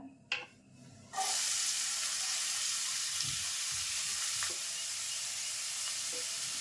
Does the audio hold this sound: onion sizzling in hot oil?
yes